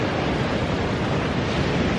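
Ocean waves wash steadily onto a beach at sunrise, a loud, continuous broadband roar of surf with no distinct breaks and no voices.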